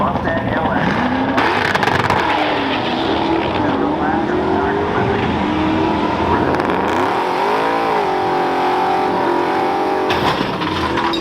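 Superstock 1987 Ford Mustang LX at a drag racing event, engine roaring and revving hard with rising and falling pitch, tires squealing at times, and an announcer talking over it.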